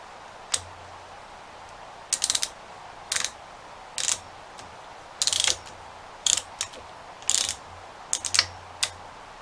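A tube cutter turned around copper tubing gives a series of short, sharp ratcheting clicks in irregular bursts, close and fairly quiet over a low background hum.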